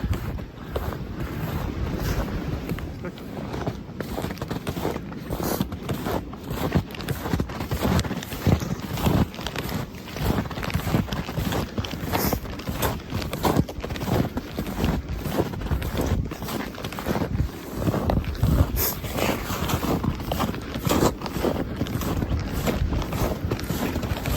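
Strong wind roars through the canopy of a winter forest, a loud, constant rushing with gusty surges and microphone buffeting throughout.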